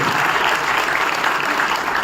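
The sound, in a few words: audience applause for the leaders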